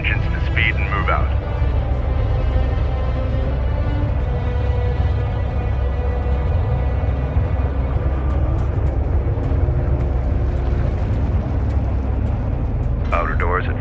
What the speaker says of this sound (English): Bring engines to speed and move out.